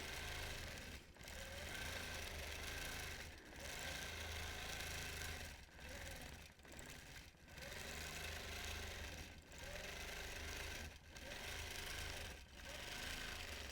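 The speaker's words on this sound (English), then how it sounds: "I'll just keep quilting" A sewing machine quilting runs in fast, steady stitching bursts, stopping briefly every second or two before starting again, loud and close with no talk.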